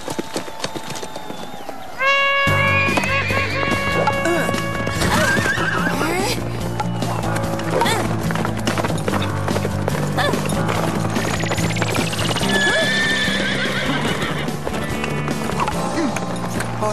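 Horses on a ranch neighing loudly with drawn-out whinnies while hooves clip-clop steadily beneath, close and busy during a contest finale, with people shouting and talking over them.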